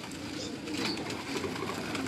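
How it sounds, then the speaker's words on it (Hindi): A pigeon perched in a loft coos softly amid a dense, hissy background wash, with no distinct separate calls standing out. "ये कबूतर इनका परचों पे बैठा हुआ कबूतर है जी"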